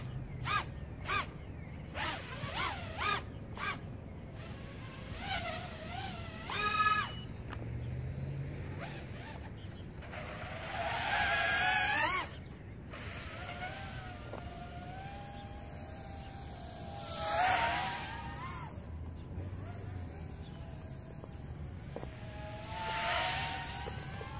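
An FPV drone fitted with Nazgul T3061 tri-blade propellers flies around, its motors whining and surging in pitch as it climbs, turns and passes by, with bursts of louder throttle between quieter stretches and no talking.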